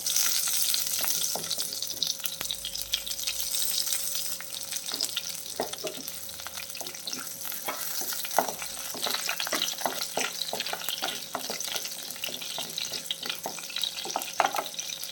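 Curry leaves and fenugreek seeds sizzle in hot oil in a pan while cooking a shark fish dish, a steady close crackling fry with sharp pops and occasional stirring scrapes throughout.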